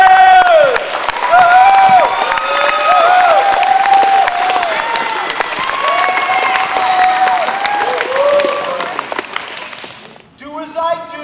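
Kids at a San Antonio Spurs basketball camp cheer, shout and clap loudly for a Spurs coach, a sustained roar of high voices that cuts off near the end.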